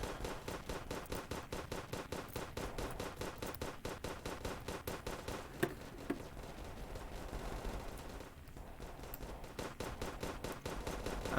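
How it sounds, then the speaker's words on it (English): Rapid machine-gun fire in a war video game, a fast, steady burst of loud shots repeating without pause for the whole stretch, with a couple of sharper cracks and a brief lull near the end. "I'm just going to fire into the darkness and hope I hit someone"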